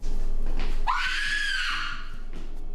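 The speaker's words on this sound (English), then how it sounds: "But she screams this time." A woman in a horror movie lets out a single loud, rising-then-falling scream lasting about a second, standing out above a quiet film soundtrack with no talk.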